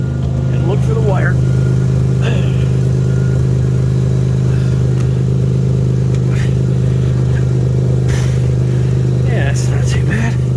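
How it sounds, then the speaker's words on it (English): A 1999 Toyota Camry LE V6 with a 5-speed idles steadily after twenty minutes of running, a loud constant low hum with a strong tonal drone, while a person talks intermittently nearby. "Had the car running for almost 20 minutes, defrosting."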